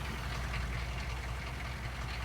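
A tractor engine idles in the video game Farming Simulator 22, a steady, faint, even chugging that runs throughout with no talking.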